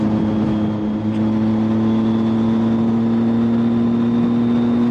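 Triumph Street Triple 675 motorcycle cruising along the A494 road toward Bala in North Wales, a steady droning engine hum with constant wind rush, loud and unbroken throughout, no talk.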